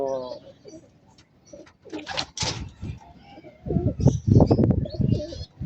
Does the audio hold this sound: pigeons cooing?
yes